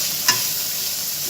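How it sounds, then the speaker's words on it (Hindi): Carrots frying in a pan produce a steady hiss of sizzling oil, with one brief knock or scrape near the start, close and even. "अब इसे हम फ्राई करेंगे और थोड़ी सी देर इसे ढक भी देंगे।"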